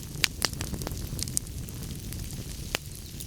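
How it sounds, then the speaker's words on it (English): Gentle crackling of a wood fire in a fireplace, with a handful of sharp pops standing out over a soft, steady hiss, close and fairly quiet. "The fire crackles gently, never too loud, never too quiet."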